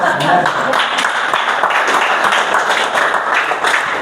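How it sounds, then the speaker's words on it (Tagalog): Audience clapping at a discipleship training session, a dense, fairly loud patter of many hands that carries on steadily, with some voices mixed in. "palakpak"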